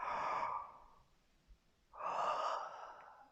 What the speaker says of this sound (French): on va vraiment pouvoir bâiller bouche ouverte